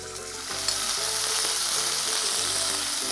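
Cumin seeds, curry leaves and ginger-garlic paste hit hot oil, a loud close crackling sizzle that swells after a brief quieter start and stays dense and steady, no voices.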